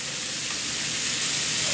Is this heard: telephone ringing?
no